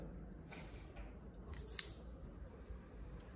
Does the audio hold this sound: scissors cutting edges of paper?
yes